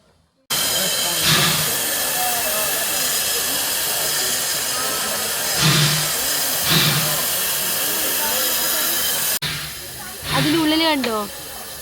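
Steady loud hiss of the coal-fired Puffing Billy heritage steam locomotive in Melbourne, heard close by, with a few bursts of louder venting, and a shift in the sound near the end.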